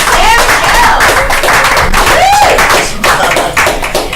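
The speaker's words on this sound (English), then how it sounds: "Give a round of applause for Michelle Alley!" A comedy-club audience at Shakers claps loudly in a dense, sustained burst of applause, with whoops and cheers rising through it and a faint voice in the crowd.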